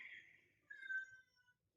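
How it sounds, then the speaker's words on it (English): A single drawn-out cat meow, rising then falling, heard faintly from a short distance in an otherwise quiet room. "I don't know if any of you just heard my cat meow"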